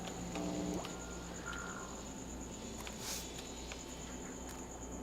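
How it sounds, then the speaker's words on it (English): Faint chirping from a large cricket in the game The Park, a thin repeating high pitch under a soft low hum and ambient hiss, with a brief warbling call early on. "There's a cricket up there. It's a big one too."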